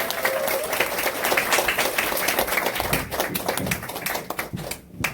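An audience at a beauty class gives loud, dense applause to welcome instructor Hwang Ha-jeong to the front. The clapping is sustained and close, then thins to a few scattered claps near the end.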